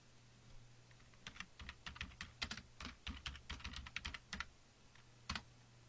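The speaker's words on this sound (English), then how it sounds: "go to Google and type in your search term" Someone types a search term on a computer keyboard in a quiet room: a run of soft, quick key clicks in irregular bursts, followed by a single last keystroke after a short pause.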